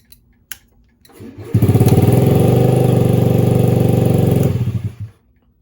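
A Honda Ruckus scooter engine cranks and fires up close by, idling with a loud, steady putter for about three seconds before the kill switch cuts it and it sputters to silence; a few faint clicks come before the start.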